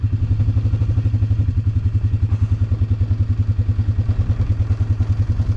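A Polaris Trail Boss ATV engine runs roughly in snow after a carburetor adjustment, a loud, close, steady chugging idle with a rapid thumping pulse and slight clatter throughout, no talk.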